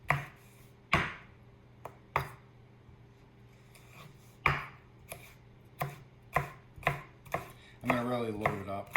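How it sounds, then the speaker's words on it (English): A knife chopping fresh garden vegetables such as bell pepper on a cutting board for pasta salad, a series of sharp isolated chops spaced irregularly, close and crisp in a quiet kitchen, with a quicker burst of cuts near the end. "I'm going to finish really quick chopping up these veggies."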